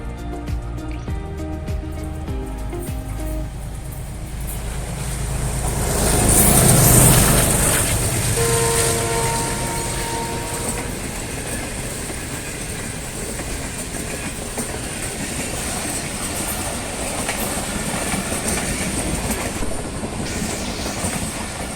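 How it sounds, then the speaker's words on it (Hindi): A Pakistan Railway train rolls through a village station where another train waits to cross it, its clattering wheels and rumble steady and close, swelling loudest midway through with a brief horn-like tone, then continuing as a constant rush. "48 डाउन रावलपिंडी वाली साइड से आ रही है, जिसको क्रॉस देने के लिए 47 अप मनक्याला रेलवे स्टेशन पर रुकी हुई है।"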